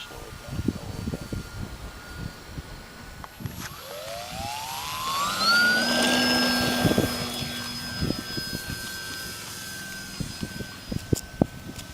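A Kyosho Cessna RC model airplane flies in gusty wind, its engine whine rising in pitch from the middle of the clip and holding steady, under wind rumble and handling noise, with people talking nearby.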